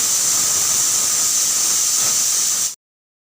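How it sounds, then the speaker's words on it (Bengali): A pressure cooker on the stove cooking Bengali shukto vents a loud, continuous high-pitched whistle over rushing steam hiss, steady throughout before cutting off abruptly. "আমি এটাকে 2টো সিটির জন্য বসিয়ে দেব প্রেশার কুকারে।"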